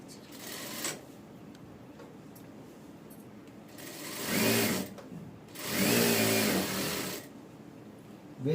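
A sewing machine stitches princess-cut padded blouse pieces in two bursts, a short one then a longer steady run, with quiet pauses between.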